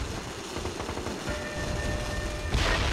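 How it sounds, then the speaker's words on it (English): Artillery shells land in the military shooter game MAG, a rumbling barrage of distant blasts and crackling fire that ends in a louder, closer impact. "Sensor shells inbound and on target."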